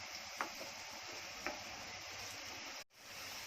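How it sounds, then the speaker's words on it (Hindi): Onions frying in a pan for a coconut milk chicken curry give a steady, moderate hiss with a couple of soft clicks, then the sound drops out sharply for a moment before resuming. "अब इसको अच्छे से प्याज को भूनूंगी कि उसकी गुलाबी थोड़ी सुनहरी रंगत आने तक"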